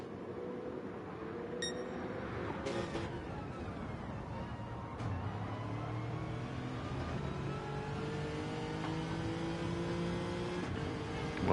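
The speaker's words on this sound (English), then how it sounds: "he's redlining it" A race car's engine screams steadily near its rev limiter during a live motorsport round, a continuous high-pitched drone with slight pitch shifts, fairly loud throughout with no talk.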